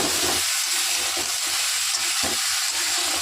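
Loud, steady sizzling of vegetables and eggplant frying in oil with salt, a constant crackling hiss with slight shifts as it's stirred.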